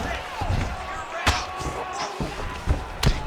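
Ground and pound strikes in an MMA heavyweight fight with Tom Aspinall on top land as a few sharp thuds, one near 1.3 seconds and a pair near the end, over steady arena crowd noise and commentary.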